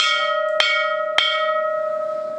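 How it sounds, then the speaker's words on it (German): An old bell from the Jesuit reduction era, kept in a museum, is struck twice in close succession, each strike ringing out with a sustained metallic hum that decays slowly and carries on between the hits. "Glocke?"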